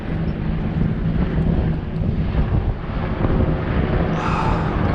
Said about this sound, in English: There appears to be many military helicopters flying above me right now for no apparent reason.